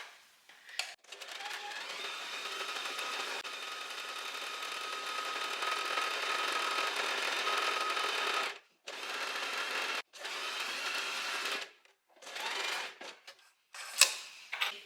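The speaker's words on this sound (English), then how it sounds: "now I'm just gonna sew, but I'm not gonna sew all the way around" Sewing machine stitching linen pants, a steady whirring hum in long runs broken by short stops and restarts, close and moderately loud.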